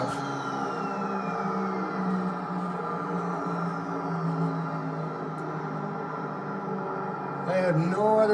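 The King Air 350's engines shut down in the X-Plane flight simulator, a steady turbine drone with a high whine that slowly sinks in pitch as the propellers spin down, with a brief louder rise near the end.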